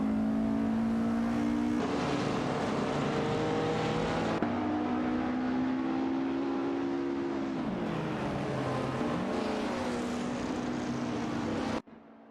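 Race cars in an AI racing video game, Holdens and Lancias, with sustained engine tones rising and falling through gear changes, loud and continuous, ending abruptly.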